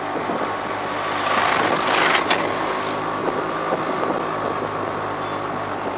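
A tractor engine rumbles past on a Himalayan road near Old Manali, a steady mid-loud drone swelling briefly as it nears, heard over ongoing road noise from a moving tuk-tuk.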